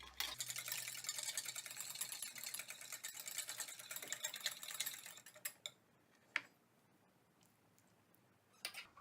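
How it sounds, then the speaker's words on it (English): A whisk stirs vegan ranch dressing in a bowl, a rapid steady clatter of wire against the bowl for about five seconds, then stopping, followed by a few isolated knocks and near silence. "Let me get a whisk, probably stir it up a little better."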